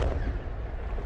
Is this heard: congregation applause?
no